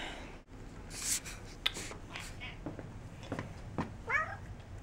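A house cat makes a few short meows and vocal sounds amid light indoor background noise, close to the microphone.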